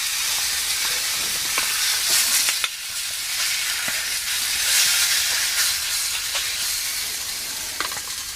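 Ribeye steak sizzling steadily in a hot pan as it cooks, a dense, continuous hiss and crackle with small pops, close and fairly loud, no talking.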